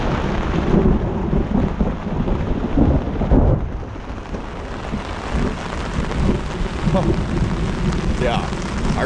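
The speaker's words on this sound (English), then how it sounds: "I'm just worried that I'm going to get hit by lightning, because bloody hell, there's been some close strikes." A thunderstorm in the summer bush, with rain pouring steadily and repeated rumbling thunder from close lightning strikes, loud and continuous throughout.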